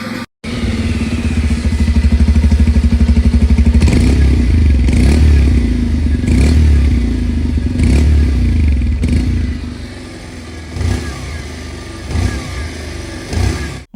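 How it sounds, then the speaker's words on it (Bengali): A 2026 Bajaj Pulsar 125 motorcycle engine runs close by, a loud steady idle with a mechanical clatter and a few short throttle blips before it settles lower near the end. "সবার আগে এর সাউন্ডকে একবার শুনে নিন।"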